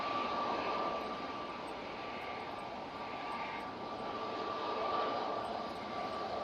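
A Canadian C-130 Hercules departs Manchester Airport in stormy weather, giving a steady, distant engine roar with a constant tonal drone that swells slightly. There are no voices.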